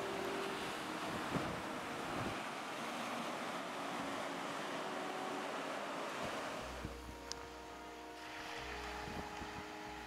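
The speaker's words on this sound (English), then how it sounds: "You see the waves crashing on the beach." Surf breaks on a beach below a rainy Cornwall headland near Padstow, a broad steady wash of waves mixed with gusting wind buffeting the microphone, and no voices heard.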